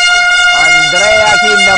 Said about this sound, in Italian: Si fa sentire la trombetta di supporto in botteghelle, ma non basta.